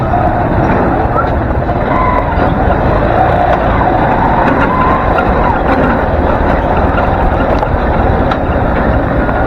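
A motorized tricycle engine runs steadily throughout, a continuous loud drone and rumble with road noise, close and unbroken, with no clear talk over it.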